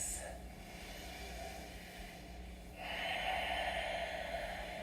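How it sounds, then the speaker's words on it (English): Slow deep breathing during a gentle yoga session for shoulder and neck tension, a soft close inhale followed by a longer, stronger airy exhale, alone without talk. "You might also begin to take a few deep breaths as you do this."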